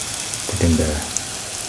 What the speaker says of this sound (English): raw plantains or raw bananas, saute and mix.